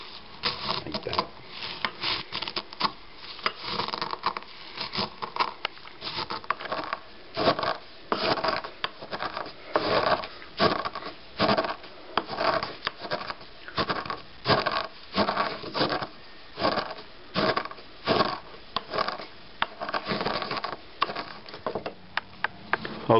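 Peeled cacao beans are mashed by hand in a bowl, making a continuous, rhythmic grinding and scraping close by, with repeated strokes and no talk.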